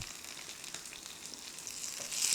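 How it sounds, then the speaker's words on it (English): Mustard seeds, dry chilies, curry leaves and onions fry in ghee and oil, a soft steady sizzle with light crackles that swells louder toward the end, no talking. "Just stir fry a little"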